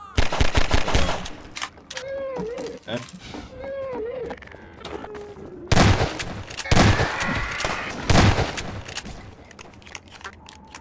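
Alyx fires her gun in Half-Life 2: Episode 2, rapid loud gunfire bursts mixed with creature cries and game effects, heard in several clusters across the scene.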